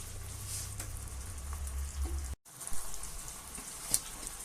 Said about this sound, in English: So we'll let that bubble there for 2 or 3 minutes before adding the potatoes in.